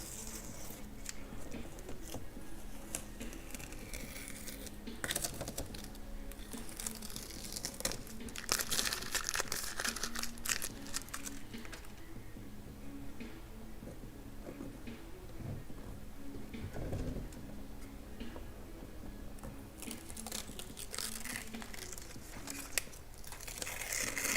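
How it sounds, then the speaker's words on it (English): Tape is peeled off an airbrushed chain, with ongoing crinkling, crackling and tearing rustles that come in bursts over a faint low background, close but quiet, no talking. "So first let's take this tape off."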